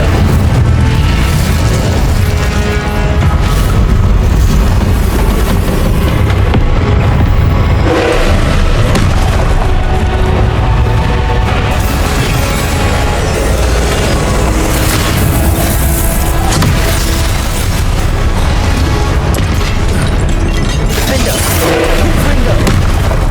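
Combat in Hogwarts Legacy, with repeated booming spell blasts and explosions from Incendio, Confringo and Expelliarmus cast in rapid succession. Loud bursts pile on one another with crackling debris, and a voice calls out the spell names between them.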